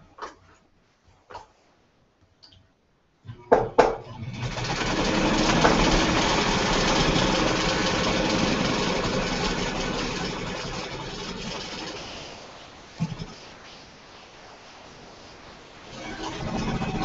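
A sewing machine hums steadily while stitching a quilt seam, starting after a few sharp clicks and running as a loud, even drone for about eight seconds before easing off and picking up again.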